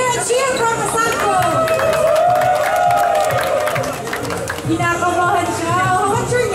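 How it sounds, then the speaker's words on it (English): Crowd at a basketball game cheering for the Sasko team, sustained shouting and whooping voices mixed with some clapping, fairly loud and continuous with a slight dip midway. "let's hear a cheer from Sasko!"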